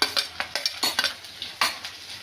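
Ginger, green chili and garlic sautéing in a pan for a Kuttanad-style clam roast, a soft sizzle under rhythmic stirring scrapes and light utensil knocks, close and without talking.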